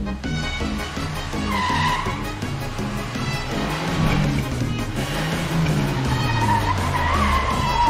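Car tires skid and squeal in GTA IV, a loud sustained screech with engine drone over several seconds, wavering in pitch as the car slides around during reckless driving in the game.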